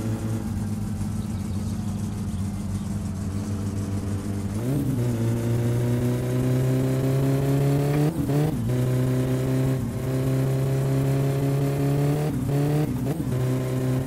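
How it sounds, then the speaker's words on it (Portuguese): A car in the driving game My Summer Car, a boxy turbocharged Gol with a 1.6 AP engine, drones steadily with a loud engine hum that rises in pitch, with several sharp revving bursts near the end. "Tá vindo o carro, mano."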